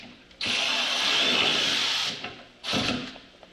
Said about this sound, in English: we can go in from the backside and snug them up with the ratchet